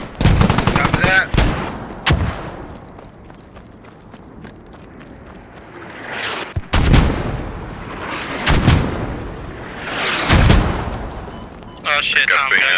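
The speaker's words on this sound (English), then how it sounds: "Tom, you ran right into a mortar, didn't you?" Mortar and gunfire in the Squad game during a Russian attack on US forces: several sharp, heavy blasts and bursts of rifle fire at irregular intervals, some close and loud, others duller, with faint rumbling between.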